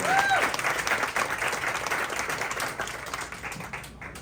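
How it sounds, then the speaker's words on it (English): Audience applause for parents at a senior graduation ceremony, a steady wash of many hands clapping that fades gradually, with a brief voice at the start. "Round of applause for our parents."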